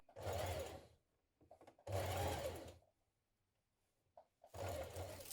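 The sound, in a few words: sewing machine stitching binding fold to make sleeve casing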